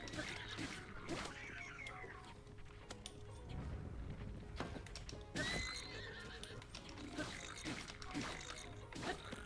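A horse in the video game Zelda Breath of the Wild whinnies amid clip-clopping hooves, with repeated sharp knocks and mechanical clatter throughout, as a voice talks over the game sounds.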